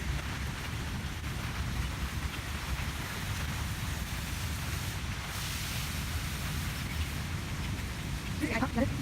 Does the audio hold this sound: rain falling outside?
yes